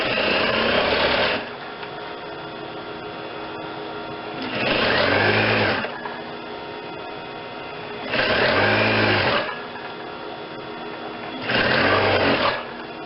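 A sewing machine stitches binding onto a vest collar in four loud, steady bursts of one to two seconds each, separated by quieter pauses with a low background hum, close up and with no talking.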